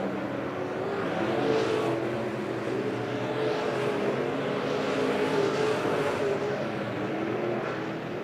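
Dirt track race cars roar around the oval at Monett Motor Speedway, a loud continuous engine drone with swelling passes as cars sweep by, heard from the grandstand without talk.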